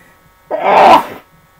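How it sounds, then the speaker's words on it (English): A single loud sneeze close to the microphone, a sharp burst lasting under a second in an otherwise quiet indoor room. "Excuse me, I have to sneeze."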